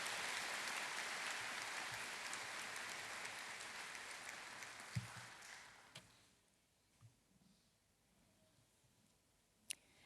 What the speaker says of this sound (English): Can we have one more round of applause for our academic award winners?